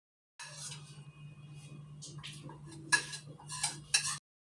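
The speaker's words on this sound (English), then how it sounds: "I'm going to add 1/3 cup of sugar in the egg mixture, 1 teaspoon of vanilla essence in this, and I'm going to mix it again" Eggs, sugar and vanilla essence being whisked in a bowl for a three milk cake, with light clinking taps and scraping strokes over a low steady hum, growing sharper toward the end.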